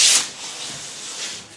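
Wood being lightly sanded by hand, a short, close, soft rasping rub with a brighter scrape at the start, heard on its own.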